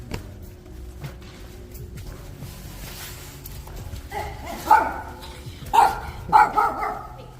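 A dog barks a few times in quick succession, sharp, fairly close barks rising out of a quiet outdoor background.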